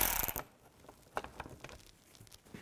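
A ratchet fitted with an 8 mm socket turns out screws from an underbody shield on a 2007-10 BMW X3, giving faint, close clicking and metallic ticks in uneven bursts with no talk.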